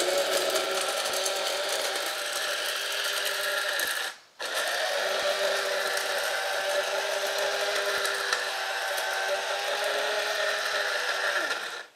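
An inexpensive electric coffee grinder runs steadily while grinding herbs into fine powder, a loud continuous whirring buzz with one brief pause partway through before it starts again.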